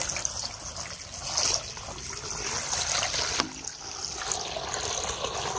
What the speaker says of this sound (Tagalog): Yan yung tubig.